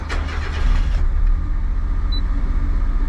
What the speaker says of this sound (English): Here's the key to the Suzuki. I'm gonna start it right now.